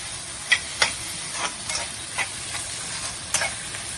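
Scrambled eggs cooking in a pan for chicken and egg noodles, with a steady soft sizzle broken by several sharp spatula scrapes and taps as they are stirred, close and with no talking.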